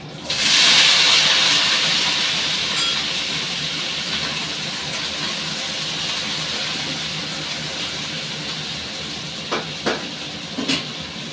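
Potato and pointed gourd drop into hot oil with five-spice tempering, bursting into a loud sizzle that gradually settles into a steady hiss, with a few sharp pops and clinks toward the end.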